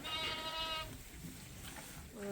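Sheep bleat near the pens on a working sheep farm, with ewes and lambs held in lambing jugs; a single clear harmonic bleat opens, then gives way to a noisy barnyard background.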